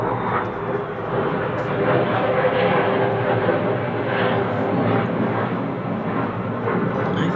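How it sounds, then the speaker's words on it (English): A loud jet fighter roars overhead, a steady, heavy wash of engine noise that fills the whole stretch without easing off. "is that a jet fighter or something? I don't know what that is. A very loud something."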